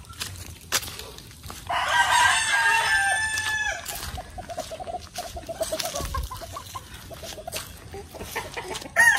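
A Boston roundhead broodcock rooster crows once in a loud, close call, then clucks softly and intermittently in a quiet farmyard setting.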